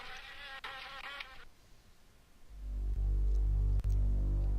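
Insect buzzing of a wasp woman creature in the video game Harvester, a harmonic drone for about a second that gives way to a louder low droning hum.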